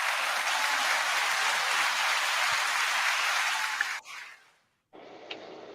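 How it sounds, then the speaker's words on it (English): A studio audience at a podcast taping claps in a dense, steady round of applause for about four seconds. The applause stops abruptly, there is a brief near-silence, and then a quieter wash of noise resumes. "One more round of applause."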